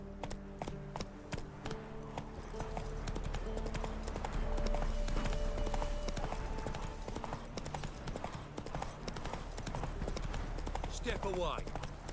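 In The Witcher 3 video game, a horse trots steadily with rhythmic hoof clip-clops under a continuous low ambient bed, while people talk over the hoofbeats.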